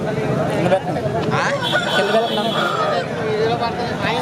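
A rooster crows amid the bustle of a Saturday fighting-cock market in G. Mamidada, with loud crowd chatter and people talking close by throughout.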